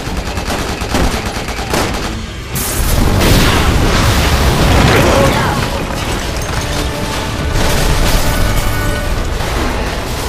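A gas explosion erupts in the Resident Evil 6 video game. It begins as a loud, roaring blast that swells into sustained rumbling and crackling with gunfire-like bursts, staying dense and loud until the end.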